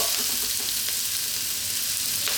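Garlic and tomato sauté in a hot pan for a Filipino ginisang togue with ground beef, giving a steady, close sizzle and crackle of frying throughout with no talking.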